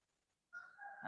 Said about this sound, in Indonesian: siapa yang di tempatnya ayam berkokok tuh?